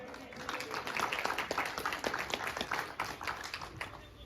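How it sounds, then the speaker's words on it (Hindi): Applause at a book release event in a hall, a steady patter of many hands clapping at moderate, somewhat distant level, sustained throughout with faint crowd murmur. "जोरदार तालियां बजती रहे प्लीज।"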